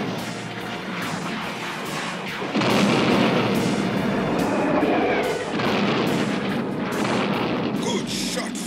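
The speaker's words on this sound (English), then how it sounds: "They're shooting back." Cartoon space battle against enemy roboships: continuous laser-style gunfire and booming blasts with swooping sweeps, dense and loud throughout, with a brief voice mixed in.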